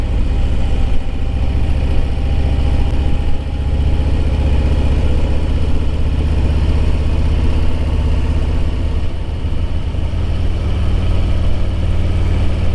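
A motorcycle cruises along a parkway on a road trip, its engine a steady, loud mid-pitched drone with constant wind rush and slight shifts in tone, close to the rider throughout.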